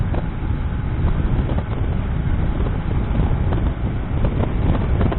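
Steady, loud buffeting wind roars across the microphone while riding a Honda CBF 150 motorcycle at 105-110 km/h, a continuous rushing noise.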